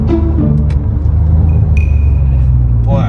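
Exhaust of a loud car with its catalytic converter removed burbles and rumbles low and close, a steady throaty idle after a downshift, with a brief short noise near the end.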